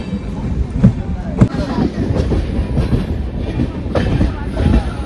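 A Jan Shatabdi train on the Mumbai to Sawantwadi Konkan route rumbles loudly along the rails with rhythmic clickety-clack from the wheels. Voices can be heard faintly under the noise.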